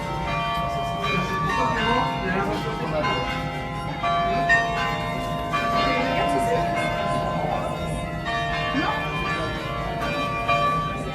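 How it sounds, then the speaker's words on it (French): Carillon bells chime a ringing melody of many tuned tones over background chatter and crowd noise in a town square in Bergues, France, continuing throughout. "C'est le son du carillon."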